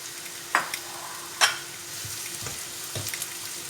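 Onions frying until light brown for baingan bharta crackle in a steady sizzle, broken by two sharp stirring scrapes near the start and softer stirs after, no talk.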